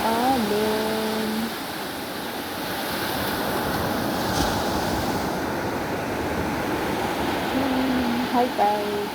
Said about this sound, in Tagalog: Ang lapit ng alon.